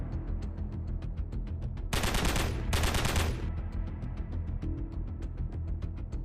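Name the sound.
intense gunfire between assault troops and defenders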